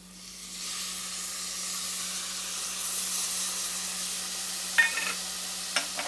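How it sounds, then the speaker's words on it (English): Curd added to softened tomatoes in a pan for egg dum biryani sets off a steady steamy sizzle that swells and holds, with a couple of light utensil clinks near the end and no talk. "So into this I'm going to add the curd"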